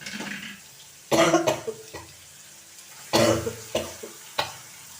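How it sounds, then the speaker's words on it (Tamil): Cooked ponnanganni greens, boiled with garlic, are poured into a hot pan, giving two loud close bursts of splashing sizzle, each trailing off into lighter clatters and stirring noises. "அந்த கீரையை ஊற்றிக்கிறோம்."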